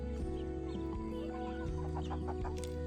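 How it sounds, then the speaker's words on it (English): Hungry chickens cluck and chatter close by at feed trays holding fermented feed, a steady busy flock with overlapping calls throughout. "And here come all the hungry chickens."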